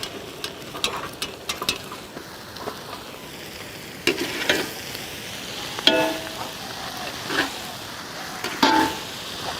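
Goat intestine fries with crushed ginger and garlic in a pan, a steady low sizzle broken by sharp stirring scrapes and clinks of a spoon against the pan.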